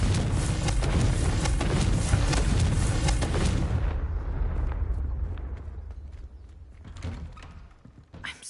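Confringo spell explosions in the video game Hogwarts Legacy, a heavy rumbling blast that roars for several seconds, then fades into scattered thuds and a final smaller impact.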